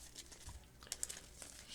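A deck of trading cards for the OverDress card game is shuffled by hand, giving soft, quiet papery rustles and a few light crisp flicks in quick succession, close but faint.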